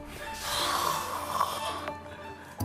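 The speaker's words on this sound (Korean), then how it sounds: "클리브스가 들었던 그 불쾌한 숨소리." Heavy, rasping snore-like breaths from someone hiding under a bed drag on steadily for a couple of seconds, close and unpleasant, with a hiss of background noise.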